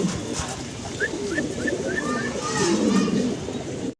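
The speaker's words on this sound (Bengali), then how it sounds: "আমরা আরো এক পিস কবুতর দেখাচ্ছি" Pigeons coo repeatedly at a pigeon farm in Mirpur 12, soft rolling calls close by, mixed with a low flock murmur and people talking over them.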